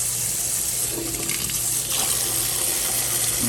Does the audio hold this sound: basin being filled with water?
yes